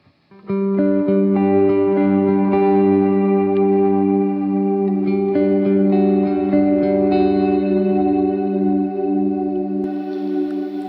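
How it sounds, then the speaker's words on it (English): Electric guitar played through a wet reverb pedal with built-in modulation on a worship pedalboard, sustained chords ringing with long washy tails, loud and steady with no voices. "I've also got a wet reverb if I really want to go to that."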